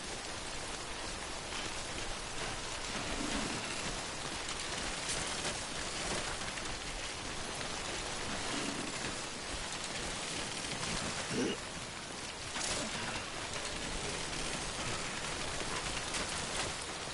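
Rain falls in the video game Death Stranding as a steady, dense hiss that continues throughout, with a few faint soft knocks beneath it.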